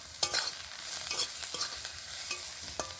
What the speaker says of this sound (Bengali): এইভাবে নাড়াচাড়া করতে করতে দেখবেন পেঁয়াজের কালারটা কিন্তু খুব সুন্দরভাবে বাদামি কালার হয়ে যাবে